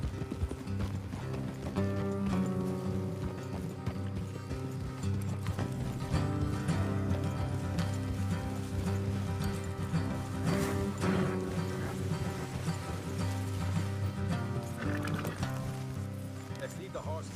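Horse hooves clip-clop steadily throughout in Red Dead Redemption 2, mixed with dense game music and ambient sound, with a voice speaking over it.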